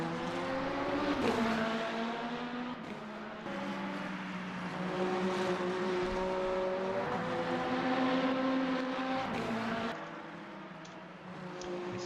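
Race cars, including a BMW, lapping Monza in the Le Mans Ultimate racing game: a continuous, fairly loud engine drone whose pitch rises and falls through gear changes, with tyres being warmed on an out lap.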